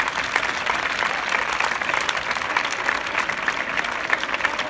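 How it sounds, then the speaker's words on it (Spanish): Pupils at a Catholic school applaud steadily during an end-of-May Marian celebration, a dense, even patter of many small hands lasting nearly five seconds. "vamos a dar a la Virgen un fuerte aplauso por cuidarnos siempre"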